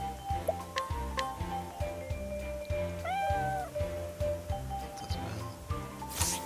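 A cat meows in the video game Octopath Traveler II, a short rising and falling mew heard near the middle over steady rhythmic game music, with faint chimes around it.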